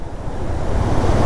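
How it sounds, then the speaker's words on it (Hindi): Waterfall rushing beside a narrow cliffside mountain road between Kishtwar and Killar, a steady, dense roar of falling water that swells slightly, mixed with wind buffeting the microphone and no voices. "क्या बढ़िया वाटरफॉल है यार"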